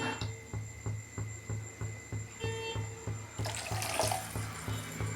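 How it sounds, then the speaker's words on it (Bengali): Water poured into a pot of Tangra fish curry, a running, splashing flow that strengthens and turns more turbulent toward the end, over a faint regular ticking in the background. "একটু ঝোল ঝোল রাখবো বলে আমি জলটা দিলাম"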